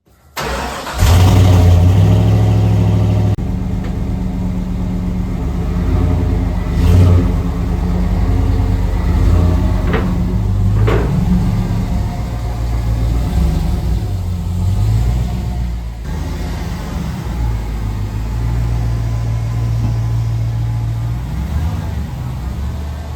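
A car with a budget 6-speed LS V8 swap rumbles loudly and continuously with a deep engine note as it pulls away and drives on a rough road, rising and settling in revs, while a voice talks over it at times.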